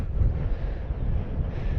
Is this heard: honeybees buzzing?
no